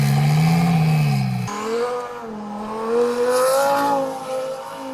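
A twin-turbo Lamborghini Sterrato engine revs loudly up close, its pitch dropping sharply after one burst and then climbing again through repeated throttle sweeps, with no voices over it.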